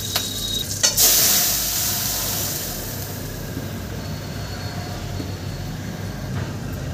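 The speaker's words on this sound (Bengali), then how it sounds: "এবার এর মধ্যে আমি ডালটা ঢেলে দেব।" Matar dal lentils poured into hot oil with fried ginger in a wok set off a sharp burst of sizzling that settles into a steady, close crackle of frying.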